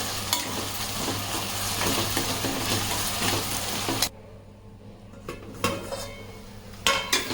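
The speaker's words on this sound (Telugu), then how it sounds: "ఇదిగోండి చక్కగా ఉల్లిపాయలు శుభ్రంగా వేగిపోయినాయి" Two large chopped onions with green chillies fry and sizzle in a pan, stirred so that utensils scrape against the metal; the sizzle is loud for about four seconds, then drops to a quieter hiss with occasional clinks and scrapes.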